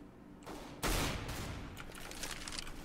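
A shotgun blast in CS:GO during a competitive match, a loud burst at about one second followed by lingering game noise and further scattered reports.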